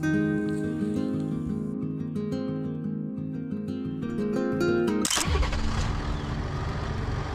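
A car engine starts and pulls away on a coastal road on the island of Senja in Norway, loud and close, entering after a steady music-like tonal bed and carrying on as a broad engine roar.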